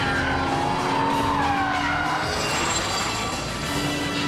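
A race car slides through a turn with its tires squealing, a sustained screech with a shifting pitch riding over a continuous loud engine roar.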